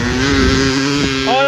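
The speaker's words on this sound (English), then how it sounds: "Nick, dude, you need like higher RPMs" Loud, close engine revving at high RPM, a brief sustained roar whose pitch rises toward the end, with a voice briefly heard over it.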